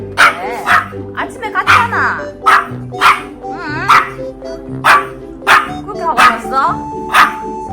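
A small pet dog barks repeatedly indoors, about a dozen close, loud yaps in an uneven rhythm, while people talk alongside.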